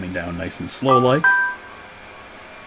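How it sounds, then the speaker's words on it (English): A mobile phone sounds a short pair of clean electronic tones right after a man's spoken words, then fades into quiet room tone. "That was my phone."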